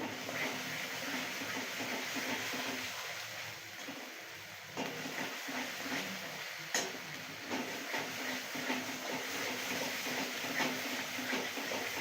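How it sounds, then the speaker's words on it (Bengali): Onions frying in a pan for a Bengali mutton curry, a steady broadband hiss and crackle of sizzling oil that runs continuously for the whole stretch with no talk. "পেঁয়াজটা ভালো করে ভেজে নিতে হবে একটু লাল লাল হবে"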